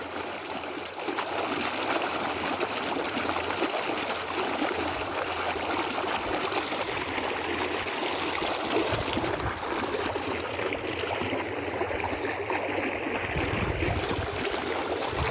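Water gushes and splashes steadily from a burst pipe with a loud, continuous rushing roar, close by, with no break for the whole stretch.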